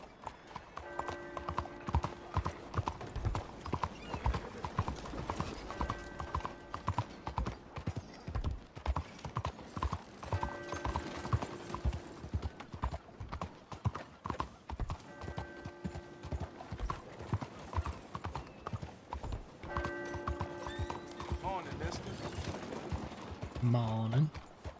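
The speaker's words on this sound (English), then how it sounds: "Oh, the horse is here." Steady clip-clop of horse hooves at a walking pace in Red Dead Redemption 2 runs throughout, over layered game music and ambience, with faint talk mixed in.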